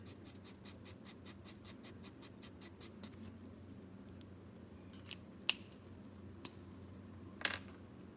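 A marker's brush tip strokes across paper while coloring, a quick run of soft, rhythmic scratchy strokes at first, then quiet with a few faint isolated clicks and taps.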